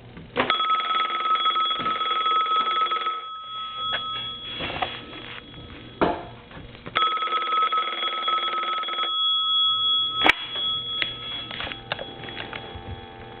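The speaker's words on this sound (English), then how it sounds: "I'm going to go ahead and ring the phone" An old mechanical telephone bell in an AT&T Princess telephone rings in long, loud trilling bursts, with pauses between rings and some clicking and rattling noises in the gaps.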